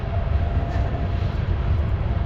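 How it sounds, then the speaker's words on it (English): Train passing near an RV campground in Spokane, Washington, a steady low rumble and rolling roar with a faint higher hum, continuous and moderately loud. "Nice train over there."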